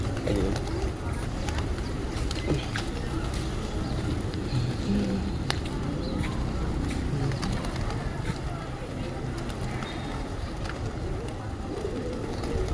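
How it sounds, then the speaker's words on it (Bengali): Pigeons coo steadily while being fed. Their soft, low calls overlap in a continuous murmur over constant outdoor background noise. "দেখ সব পায়রাগুলো আসবে তোর কাছে।"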